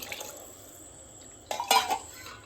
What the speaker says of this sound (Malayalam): രണ്ടേ മുക്കാൽ ഗ്ലാസ് വെള്ളം ഒഴിക്കും